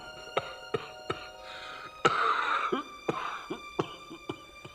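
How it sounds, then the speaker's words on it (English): A series of sharp, raspy coughs, some single and some in quick bursts, with a longer hacking fit in the middle, close and fairly loud. "You have a terrible cough"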